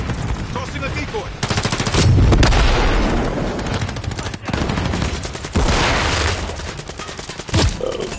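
Rapid gunfire from a decoy grenade in Call of Duty rattles in dense bursts with booming shots, loud and continuous, layered over other game noise.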